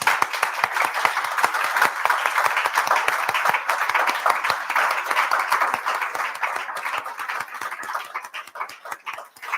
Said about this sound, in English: I think you get a very well-deserved round of applause